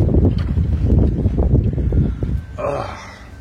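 Outdoor wind gusts buffeting the microphone, a loud, low, rumbling roar that surges and fades for a few seconds before dropping slightly at the end.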